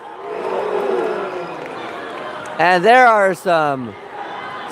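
A gym crowd roars and cheers during a men's volleyball final at the Unity Games, a broad wash of noise that fades as a commentator starts talking over it.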